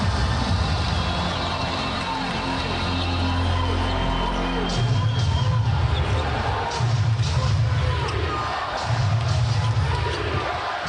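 Basketball arena crowd cheering after a Lakers three-pointer in a 2010 first-round playoff game, a loud crowd roar with swelling bursts, underneath a play-by-play commentator's voice.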